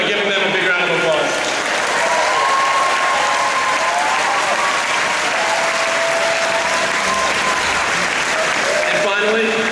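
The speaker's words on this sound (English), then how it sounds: "giving them a big round of applause" A dense, loud wall of applause from a crowd in high school graduation stands, sustained and even for the whole stretch, with a few voices faintly threaded through the clapping.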